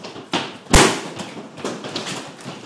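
Hailstones in an Abilene hailstorm strike a house in irregular hard thumps and cracks. One loud, sharp impact stands out among several lighter knocks, close by and with no voices.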